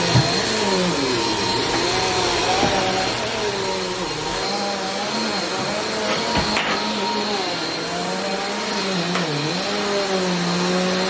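A household vacuum cleaner runs steadily indoors, a loud continuous whine with slowly wavering pitch throughout, with no talking.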